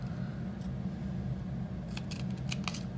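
Scissors snip through paper while two squares are cut for a planner, a few quick crisp cuts close up toward the end over a low steady hum.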